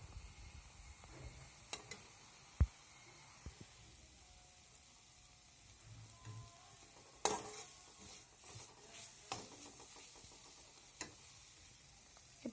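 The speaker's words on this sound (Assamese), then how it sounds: "এইখিনি আমি ভালদৰে লৰাই লৰাই ভাজি থাকিম" Spiced masala for an okra dish fries in oil while a spoon stirs it, making a soft, steady sizzle broken by scraping strokes and a few sharp clinks against the pan. No one speaks.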